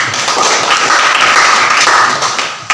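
Classroom applause in an Indonesian youth lesson, a few seconds of dense, steady clapping from a group of students, close and loud, ending abruptly.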